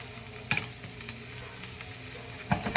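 Mushrooms roasting in a pan, a steady close sizzle with a couple of sharper stirring scrapes, no talk.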